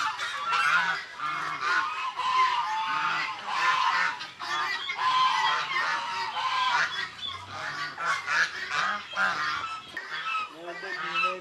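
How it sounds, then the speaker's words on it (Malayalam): Brooding geese on a large mixed farm in Kerala give repeated, close, loud honks in overlapping bursts that run throughout. "ഇത് നമ്മുടെ വാത്തുകളാണ്"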